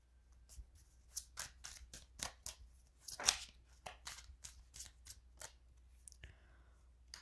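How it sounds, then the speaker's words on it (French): Tarot cards being shuffled by hand, a quick run of crisp riffling flicks in an uneven rhythm, close and fairly quiet, with one louder burst in the middle. "Je vais recommencer à brasser les cartes"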